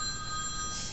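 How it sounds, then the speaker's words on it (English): A cell phone rings among the audience at a panel about Hatsune Miku, giving a steady, fairly faint electronic ringtone of sustained tones over room hum. "Please don't forget to turn off your cell phones."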